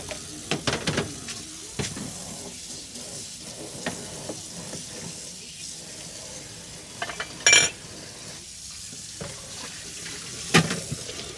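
A kitchen tap left running into a sink while dishes are washed, a steady watery hiss with scattered clinks and a couple of louder knocks, moderately close and without speech.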